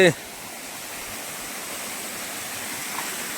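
A steady, broadband rush of falling water roars continuously, like a nearby waterfall, with a brief voice fragment at the very start.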